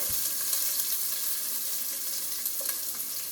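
Onion frying in a pan for fish stew, a steady bright sizzle with small crackles and a brief clatter at the start, alone without talk.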